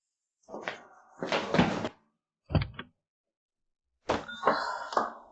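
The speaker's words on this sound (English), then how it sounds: "Blame this broken door." A broken door creaks and bangs through several separate bursts of opening and closing, close and fairly loud, with short silent pauses between movements.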